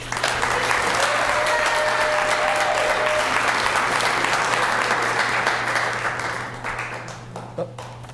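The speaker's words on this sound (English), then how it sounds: "give your classmates a huge round of applause" Sustained audience applause fills a school Celebration of Learning event at Wasatch Academy, loud and dense from the start, then thinning and fading over the last couple of seconds.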